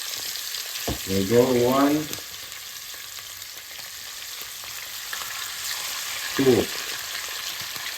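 Fish frying in oil flavored for Caribbean-style cooking, a steady close sizzle and crackle running the whole time, with someone speaking briefly twice over it.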